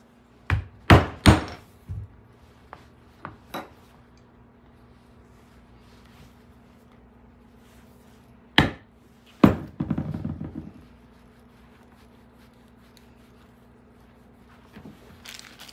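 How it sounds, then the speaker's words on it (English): A rivet is set into leather leggings with a few sharp, close hammer knocks separated by quiet gaps, plus a short rattling scrape partway through. "This is how you put a rivet on"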